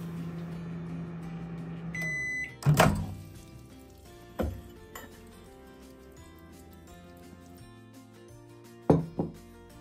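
A microwave oven cooking potatoes for a soybean curry: a low hum, then a short electronic beep followed by loud door thunks and a few clinks of dishes.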